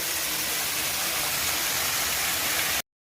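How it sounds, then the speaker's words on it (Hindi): Water flowing down a small waterfall beneath a Lord Shiva tableau in a museum at Haldighati, a steady, fairly soft rushing wash that cuts off abruptly near the end. "नीचे से झरना बहता हुआ पानी"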